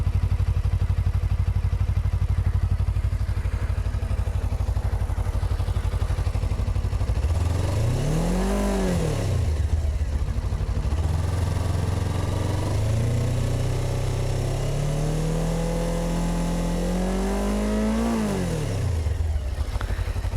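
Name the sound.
Suzuki V-Strom 250 motorcycle stock exhaust sound while revving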